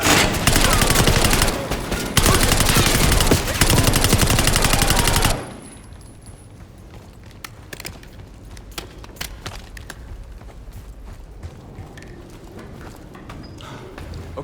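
Machine gun fire in Call of Duty Black Ops 6 pours out in loud, dense, sustained bursts for about five seconds, then stops abruptly and leaves quieter clattering and mechanical movement.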